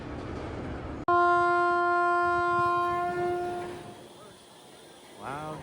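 Scream roller coaster at Six Flags Magic Mountain sounds its dispatch signal: a sudden loud, sustained electronic tone lasting a few seconds, then fading as a voice starts talking at the end.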